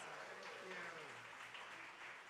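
Faint, steady clapping from a concert audience, a dense patter of many hands under a distant murmur of voices.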